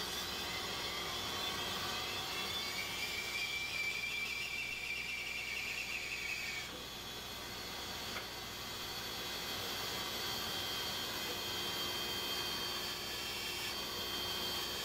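A woodworking bandsaw runs steadily in a shop, a continuous broad hiss and whine at moderate level with a faint tonal squeal as the blade works through wood, no voices.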